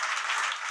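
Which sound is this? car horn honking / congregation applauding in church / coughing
congregation applauding in church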